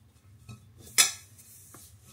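Cutlery and dishes clink and clatter in a few sparse knocks while a dishwasher is unloaded, with one sharper metallic clatter standing out among faint handling sounds.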